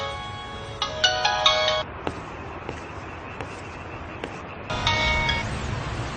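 A telephone rings in short bursts of electronic tones, twice with a quiet gap between, unanswered and fairly clear in a quiet indoor room.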